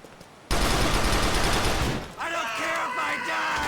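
Gunfire in the video game GTA 4 The Lost and Damned: a sudden, loud, sustained fusillade breaks in and keeps going as rapid, dense shots. A tonal sound and voices come in over the shooting later on.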